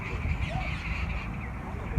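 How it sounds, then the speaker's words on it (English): Crows caw around sunset outdoors, a dense, fairly faint chorus of birds mixed with wind and background noise rather than distinct single calls. "It's around sunset, so the birds are like making a lot of noise."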